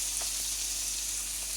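Onion paste fries in a little oil, a soft, even, low-level sizzle that stays constant throughout with faint stirring ticks.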